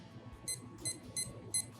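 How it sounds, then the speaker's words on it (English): A kitchen timer being set before steeping tea leaves gives four short, bright electronic beeps at a steady, even rhythm, close and clear over a faint background hum. "I'm going to set my timer"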